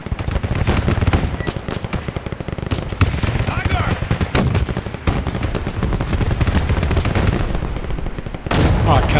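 Dense, rapid gunfire and heavy cannon blasts crack without pause in a chaotic battle soundscape from the WW2 strategy video game Men of War II, with voices shouting intermittently underneath.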